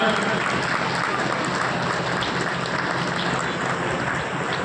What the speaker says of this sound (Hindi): तो आप जोरदार ताली बजाइए।